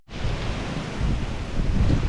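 Wind buffets an outdoor microphone on a brisk day, a loud, rushing roar that swells and gusts continuously without any talking.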